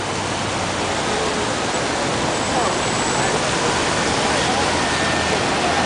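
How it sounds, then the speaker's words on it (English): An outdoor water fountain outside the Plaza Hotel in New York City gives off a steady, loud hiss of rushing and splashing water that holds constant throughout. "loves water fountains."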